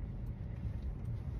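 Road traffic rumbles beside a building among passing people: a steady, low, faint drone of vehicles with no clear single pass and no talking.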